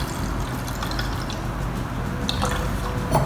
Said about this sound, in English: I'm pouring in just a little bit of the hydrated potato protein.